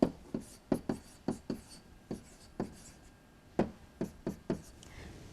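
Pen or marker strokes writing numbers on a board during a fifth-grade math lesson: a dozen or so short taps and scratches in irregular bursts, quiet and close with a faint room hiss and no voices.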